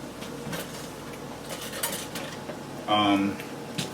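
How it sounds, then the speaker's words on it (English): A fork scraping over seared meat gives a few close metallic scrapes and clicks on the pan and a brief louder clatter near the end, with no talk. "I want to go over the meat one time with my fork."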